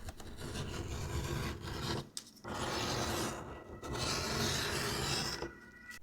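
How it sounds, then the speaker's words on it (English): A beveler tool shaves along leather edges in close, raspy scraping strokes, a few continuous passes separated by brief pauses, fairly quiet and steady with no talking. "After cutting, we can use a beveler to bevel the edges."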